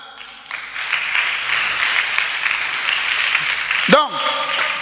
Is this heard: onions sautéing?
no